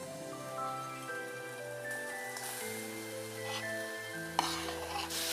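Chopped onions for a street-style veg momo filling, stirred in a hot pan and sizzling with a steady, close frying hiss and scraping, heard under background music.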